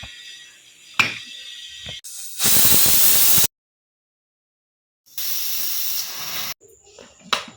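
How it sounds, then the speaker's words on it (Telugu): A kitchen pressure cooker boiling eggs, giving off loud sharp bursts of hissing steam as it whistles, two long rushing blasts separated by silence, with softer clatter around them. "2 విజిల్స్ వచ్చేంత వరకు ఉంచుదాం."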